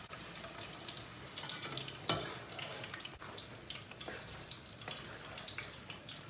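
Eggplant, potatoes and zucchini fry in a pan with a steady, close sizzle. Occasional stirring clatters and scrapes rise above it, and one sharper knock breaks through partway.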